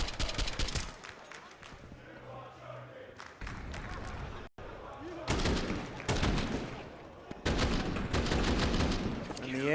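Pistol gunfire in a professional Counter-Strike match on the Nuke map, loud rapid bursts of shots in clusters with brief gaps, layered with excited commentary and crowd noise.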